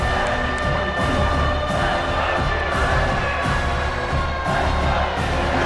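Steady, roaring crowd noise from a video game American football match, with cheering building on third down and continuous stadium ambience alongside the commentary.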